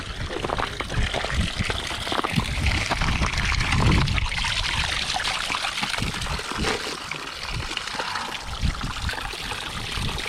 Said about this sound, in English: you can dump out your old water. Fill it up.